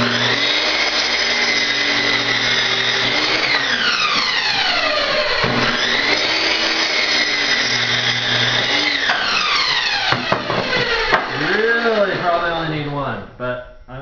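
A loud power tool whines and cuts a wooden board nearby, its pitch dropping and rising as it bites into the wood, ending in a choppy, bogged-down stretch.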